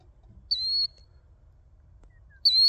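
A bird by a railway trackside gives two loud, clear, whistled calls spaced about two seconds apart over faint low background rumble, with no one talking.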